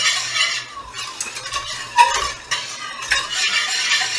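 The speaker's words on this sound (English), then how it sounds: "So just keep on stirring." A spoon stirs banana pudding custard made with milk in a pot, giving continuous close scraping and soft clinks against the metal, with no talking over it.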